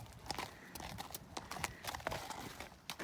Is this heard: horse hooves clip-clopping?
yes